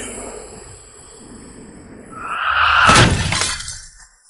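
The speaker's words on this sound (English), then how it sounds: "Glass exploded." After a quiet stretch, glass shatters loudly and close by, a bright crashing burst that scatters and fades over about a second.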